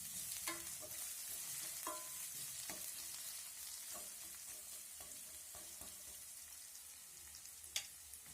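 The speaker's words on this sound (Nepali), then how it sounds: "प्याजलाई पनि हामीले हल्का ब्राउन नहुन्जेलसम्म फ्राई गर्नुपर्ने हुन्छ" Onions fry in a pan with a soft, continuous sizzle, broken by a spoon scraping and stirring every second or so. Quiet and close, with no voices.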